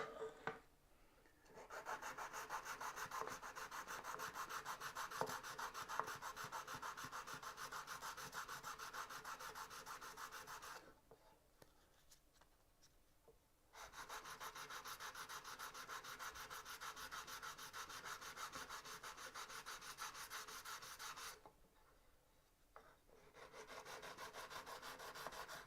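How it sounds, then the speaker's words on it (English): Sandpaper rubs by hand over a small wooden dovetail box in long continuous bouts of gritty scraping, pausing twice briefly, quiet and close with no speech. "Might take a little practice to actually get your sanding technique right for this."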